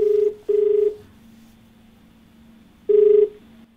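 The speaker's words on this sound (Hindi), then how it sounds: "चलिए फोन लगाते हैं अपने दूसरे कॉलर को।" An outgoing call to a TV show caller rings back through a phone line: two short tone bursts in quick succession, a pause with a low steady hum, then another burst, all clear and close.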